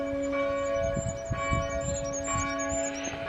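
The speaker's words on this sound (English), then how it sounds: "Church bells are ringing," A church bell rings out steadily on a Sunday morning, its sustained tone hanging throughout with repeated strikes, heard outdoors near a garden at moderate loudness with no talking.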